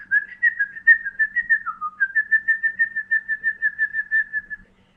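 Children's whistling imitates a skylark's song: a rapid run of short, pulsing chirps with a brief dip in pitch, then a long even trill that stops after about four and a half seconds.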